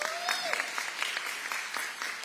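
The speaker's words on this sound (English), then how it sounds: "Let's give her a round of applause" Audience applause at an affordable housing announcement by the New York governor, honoring a college president: a steady wash of many hands clapping, fairly distant and even, with no voices over it.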